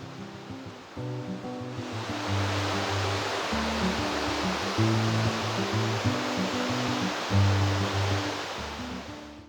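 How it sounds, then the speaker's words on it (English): Five Finger Rapids on the Yukon River rush and roar in a steady, dense wash of whitewater that swells after the first second and stays loud and continuous throughout, with no voices. "Just mosey down and have a look at the Five Finger Rapids."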